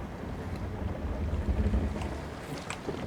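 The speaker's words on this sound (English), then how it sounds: "Yay, I get to drive the boat." Boat sailing through water in the Elder Scrolls Online video game, a steady wash of water and wind rumble with low churning, no talk.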